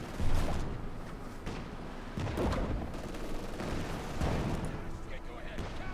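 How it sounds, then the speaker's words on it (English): MG42 machine gun fire in the video game Company of Heroes 2, dense rattling bursts mixed with other gunfire and explosions, heard under continuous commentary. "Pioneer suppressed by the MG42."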